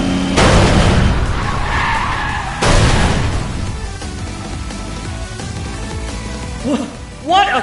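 Race cars skidding out of bounds in a video game race, a loud tire screech and rushing engine noise that fades, with a voice cutting in near the end.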